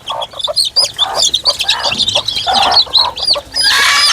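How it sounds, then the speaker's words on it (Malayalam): Red-and-white hens cluck close by in short, repeated bursts, mixed with quick, high peeping calls from their chicks. "ഇതാണെങ്കിൽ നമ്മുടെ റെഡ് വൈറ്റ് അമ്മക്കോഴിയാണ്"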